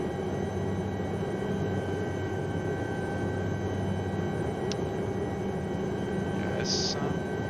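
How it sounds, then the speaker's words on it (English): Aérospatiale SA315B Lama helicopter flying and hovering near Mont Blanc, heard as a constant close engine and rotor drone from inside the cabin, with a faint voice. "As you can see, this helicopter is relatively stable on hovering."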